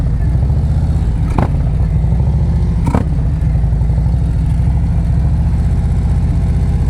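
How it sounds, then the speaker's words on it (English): A motorcycle idles steadily with a low, loud rumble during slow-speed riding practice in Georgia, broken by two quick, short throttle blips about a second and a half apart while the clutch is held. "You guys hear me throttle blipping in the middle of that?"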